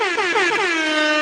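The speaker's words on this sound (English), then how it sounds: "I don't know why the air horn just went off right there" A loud, blaring air horn sounds continuously, its pitch wavering briefly at first before holding a steady, brassy tone.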